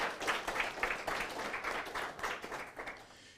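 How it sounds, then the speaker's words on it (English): An audience applauds at an awards gala, a steady wash of many hands clapping throughout at moderate loudness, with no other sounds standing out. "A round of applause."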